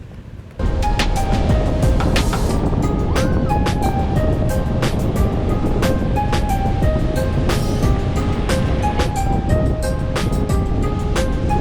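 Rough ocean surf pounds a Florida beach during red flag conditions, a loud continuous roar of breaking waves that starts abruptly and stays dense, with scattered sharp clicks and tones over it and no speech.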